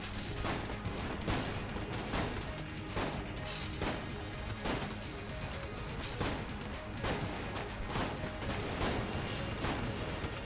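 A video game gun fires in rapid repeated bursts, dense mechanical cracks and clatter running continuously at close range and high loudness.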